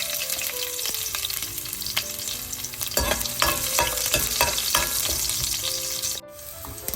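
Mustard seeds, fennel, cumin and four or five chopped garlic cloves hit hot oil for a potato curry, giving a bright, crackling sizzle with occasional stirring scrapes, loud and close throughout before easing near the end.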